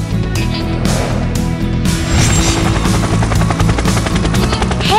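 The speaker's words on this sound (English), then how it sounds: "Hi, I am a helicopter. I can fly and hover in the sky." A helicopter drones loudly and steadily nearby, its rotor thumping in a continuous low chop with a whining engine layered on top.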